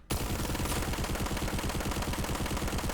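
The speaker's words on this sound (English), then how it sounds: "we're just gonna fire off the entire clip" A TR weapon in a video game fires its entire magazine in one continuous full-auto burst. Rapid gunshots start abruptly and stay loud and even-paced for the whole few seconds.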